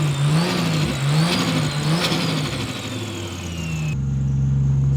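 A Toyota Supra JZA80 with freshly fitted turbos runs close by, its engine revving in uneven surges over an idle with a rising whine, then settling into a steady low idle hum near the end.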